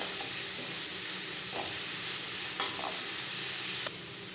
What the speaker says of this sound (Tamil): பூண்டு சேர்த்துட்டு ஒரு 30 செகண்ட் போல் வெங்காயத்தோடு சேர்ந்து நல்லா வதங்கட்டும்